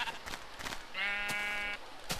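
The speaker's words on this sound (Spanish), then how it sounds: "Las ovejas son lo mismo, gritan igual." A sheep in the video game Minecraft gives a single short, wavering bleat, clear and close, amid soft background game sounds.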